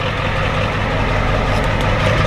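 A Ford F-250 with a 7.3 IDI diesel and a deleted muffler idles loudly and steadily nearby, a deep continuous rumble with a gruff exhaust note throughout.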